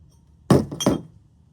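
Metal D-ring handled during a trailer-mounted crane hoist build, giving two quick close metallic clinks in a row against a quiet background.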